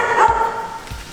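A dog at an animal shelter gives a loud, close, drawn-out bark or yelp, followed by a second shorter bark a moment later, with no talking.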